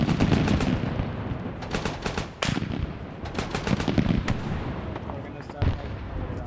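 Heavy guns fire in a war video game set in an Argentina campaign, dense bursts of machine-gun and rifle fire with sharp repeated cracks, loud and close, while a voice talks over parts of it.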